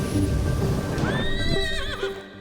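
A horse neighs loudly, a rising whinny that trails off over about a second, with hoof clatter and background noise beneath it throughout.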